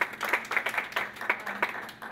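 Audience at a conference panel discussion clapping: a short spell of scattered, moderately close hand claps with uneven rhythm, faint voices mixed in.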